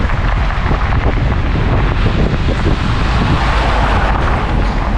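Strong, cold wind with light rain buffets the microphone in a loud, continuous roar with rumbling gusts throughout, as a storm approaches in the Philippines.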